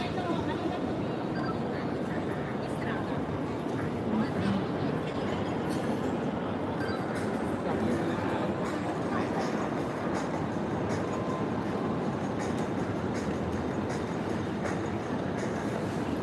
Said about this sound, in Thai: รอขึ้นรถไฟ